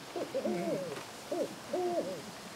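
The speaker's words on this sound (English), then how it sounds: "Most of the eagle owls have some kind of a hooting noise." A desert eagle owl gives a few deep, soft hoots in short separated phrases, close and fairly quiet with no other sound around them.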